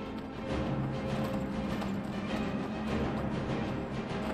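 Horse hooves clip-clopping steadily in Skyrim, a continuous rhythmic trot under a dense, noisy game soundscape with no speech.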